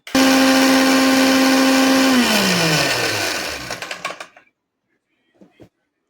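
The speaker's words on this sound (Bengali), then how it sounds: "ব্লেন্ডারে পেস্ট করে নিচ্ছি।" A kitchen blender grinds poppy seeds and green chillies into a paste. A loud, steady whirring motor runs for about two seconds, then winds down and stops, followed by a few faint clicks.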